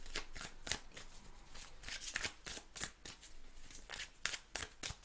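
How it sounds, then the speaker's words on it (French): Tarot cards are shuffled in quick riffling bursts, a crisp papery flutter repeating in uneven pulses over about five seconds, close and fairly quiet with no voices. "On va prendre une dernière carte pour ce cavalier d'épée à l'envers du milieu."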